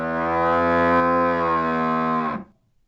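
A single long, loud cow moo sounds as a rich harmonic bellow lasting over two seconds before cutting off into silence.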